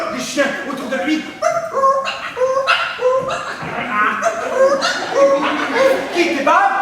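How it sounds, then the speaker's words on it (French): Several dogs bark, yip and whimper in a busy, overlapping chorus, close and loud, mixed with human voices. "Les chiens autour de lui."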